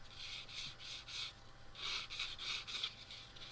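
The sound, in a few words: UMP sander sanding a nick off a plastic model kit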